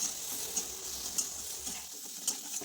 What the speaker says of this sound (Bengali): মাছগুলো দিয়ে ভালোভাবে নেড়ে চেড়ে নিতে হবে